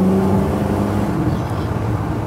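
A 1939 Ford Deluxe Coupe street rod runs steadily nearby with a continuous low engine rumble and road noise, fairly loud and even throughout, with no talk.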